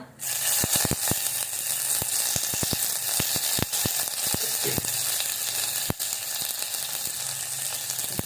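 Turmeric and curry leaves sizzle in hot oil as part of a Goan pineapple sasav, a loud steady crackle with sharp pops and spits scattered throughout, close up with no voices.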